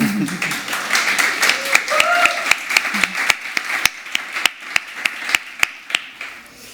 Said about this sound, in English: Where's the applause?